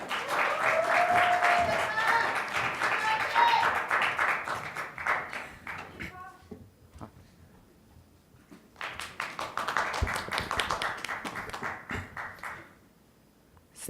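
Audience applause for a high school student's speech, a dense, loud patter of many hands lasting several seconds that fades, then swells again before stopping abruptly, with some voices mixed in.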